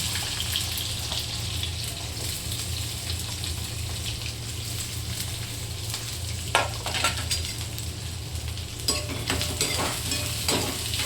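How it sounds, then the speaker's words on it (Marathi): Onions frying in oil in a home kitchen for a cauliflower sabzi, browning after mustard seeds go in: a steady, close hiss of sizzling runs throughout, broken by a few sharp scraping bursts of stirring near the end. "मस्त आता लाल होणार आहे, मस्त छान असा ब्राऊन होऊ द्यायचा कांदा आपला"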